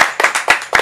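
Hands clapping in applause for a guest on a talk show, four quick, close, crisp claps in even rhythm.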